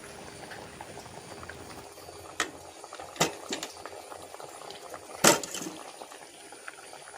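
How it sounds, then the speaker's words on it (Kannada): Jaggery boiling in water in a pot gives a soft, continuous bubbling simmer, close and quiet, broken by a few sharper pops and clicks. "ಬೆಲ್ಲ ಕರಗುವವರೆಗೂ ಇದನ್ನು ಚೆನ್ನಾಗಿ ಕುದಿಸಿ"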